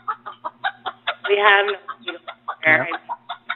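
Rapid rhythmic chicken-like clucks come over a phone line, apparently a human voice imitating a chicken, with a few spoken words mixed in.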